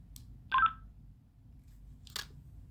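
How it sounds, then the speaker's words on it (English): Two short bursts of digital radio transmission noise heard on an analog radio, sharp and chirpy, separated by a quiet stretch over a faint low hiss. "This is what a digital radio sounds like to another analog radio."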